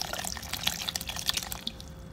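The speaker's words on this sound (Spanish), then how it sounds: "Le pone toda una botella, 16 onzas de agua," A full 16-ounce bottle of water pours into a blender jar holding fruit, giving a steady splashing, dripping liquid sound that runs throughout at a fairly quiet level with no talking.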